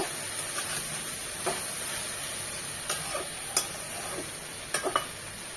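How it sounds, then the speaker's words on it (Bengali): Okra frying in a pan, a soft steady sizzle and hiss broken by a few light, scattered taps and scrapes of stirring, no speech. "আর একটু ভাজা ভাজা হবে আমাদের ঢ্যাঁড়স ভাজিটা একদম রেডি"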